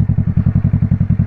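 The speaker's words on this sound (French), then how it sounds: "passé les 7000 tours, le moteur s'essouffle par manque d'arrivée d'essence du coup" Kawasaki ER6N motorcycle from 2012, restricted to 35 kW, revving hard with a steady rapid pulsing engine note, loud and close, no talk.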